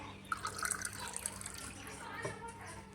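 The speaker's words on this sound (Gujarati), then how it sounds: "જો હું છે ને અત્યારે ગ્લાસ ભરું છું" Water runs from a container filled that morning into a drinking glass, a faint, quiet trickle with soft drips, while a person talks nearby.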